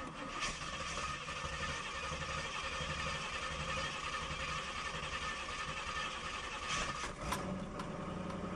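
A car with a Flowmaster exhaust idles steadily, a low, even rumble that holds throughout at close range with no pauses.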